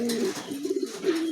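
A male Spanish pigeon coos in a low, throaty rolling call, close and clear, with a couple of short pulsing coos running together over about a second.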